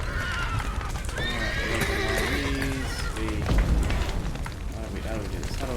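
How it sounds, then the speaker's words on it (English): Horses rescued from a burning barn in a video game whinny and neigh repeatedly over clattering hooves and rumbling background noise, with voices calling out among them. "Horses! Moving them out!"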